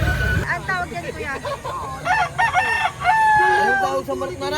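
Rooster crowing repeatedly at a busy poultry market in Lipa, Batangas, its loud calls rising over a background of people talking and general crowd babble.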